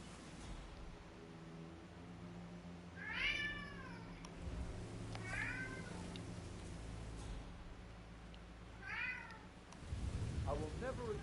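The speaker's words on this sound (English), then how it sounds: "You can quit meowing." A cat meows three times in the Hitman 3 video game, each meow a clear, drawn-out call spaced a few seconds apart over a steady low background hum.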